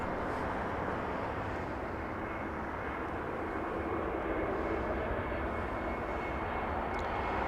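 A Swiss airliner bound for Zurich takes off at Los Angeles International Airport. A broad, steady jet roar holds evenly throughout without a break, fairly distant and sustained.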